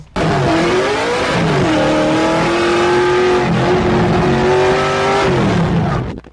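An LS-swapped pro drift car's V8 roars at high revs through a drift run, loud and close, with the pitch rising and falling as the throttle works, and tire squeal mixed in.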